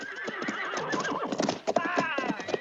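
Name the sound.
horses neighing and hooves clip-clopping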